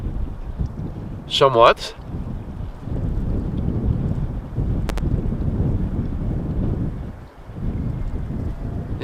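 Strong, gusty wind buffets the microphone beside runway 18R at Amsterdam Schiphol Airport, a continuous low rumbling roar with a brief sharper burst early on, while a voice talks over it.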